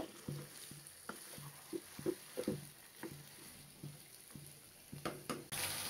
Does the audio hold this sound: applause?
no